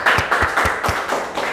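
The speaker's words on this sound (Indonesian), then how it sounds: "Tepuk tangan dulu untuk kita semua" Students in a classroom clap together: a short burst of loud, close, rhythmic hand claps, several distinct beats in quick succession blending into a brief round of applause.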